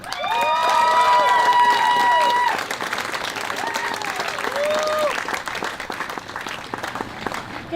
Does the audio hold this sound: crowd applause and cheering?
yes